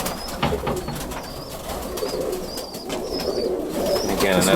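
Roller pigeons coo softly in a loft, low repeated calls under a steady background of rustling and shuffling, with faint chirpy sounds above.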